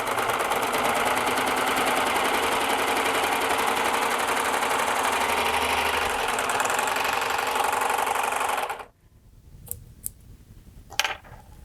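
A Baby Lock Accolade serger runs a 4-thread stitch along thin lining fabric, giving a loud, fast, steady mechanical whir for about nine seconds before stopping abruptly, followed by a few faint clicks.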